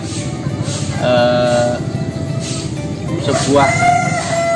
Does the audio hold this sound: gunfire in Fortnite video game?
no